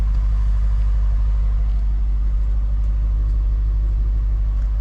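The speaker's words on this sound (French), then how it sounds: "Mais on entend quand même bien le V8 quand on accélère." A 2009 Cadillac STS with a 4.6-litre V8 accelerates, its engine a steady deep rumble heard from inside the cabin, smooth and subdued rather than loud.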